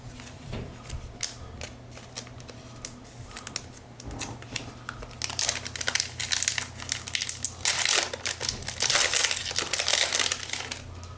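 Packs of Kakawow Phantom Disney trading cards being torn open, rapid crinkling foil wrappers and crisp card handling, close and busy, growing denser and louder toward the end.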